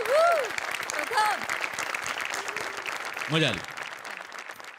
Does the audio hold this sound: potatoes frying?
no